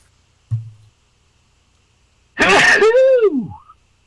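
A single sharp sneeze bursts out loudly and close by during a casual online hangout, with a brief click before it.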